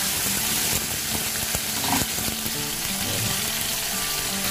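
Fish frying in a large pan (kawali), a steady broadband sizzle with crackling pops and occasional clinks of a utensil, continuous and close throughout.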